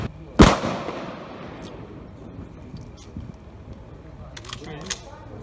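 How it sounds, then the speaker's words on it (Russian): A single sharp, loud gunshot effect on a Crimean film set rings out early, followed by a decaying echo, low background murmur and a few light clicks afterward. "Внимание, выстрел!"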